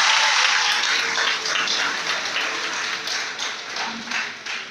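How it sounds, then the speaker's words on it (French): A crowd applauds at a ceremony welcoming new baccalaureate graduates in Boundiali, sustained clapping that is loud at first and then slowly fades. "Ça s'applaudit."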